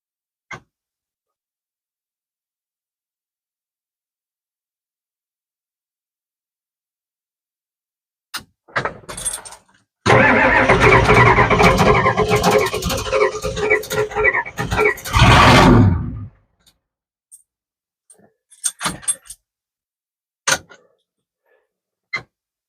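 An old diesel engine cranks hard for about six seconds after a glow plug warm-up, a loud steady churning that stops abruptly, followed by scattered clicks and knocks in the quiet.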